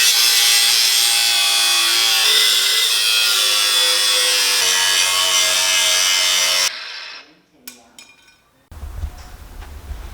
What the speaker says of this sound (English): I'm just going to trim the metal here a little bit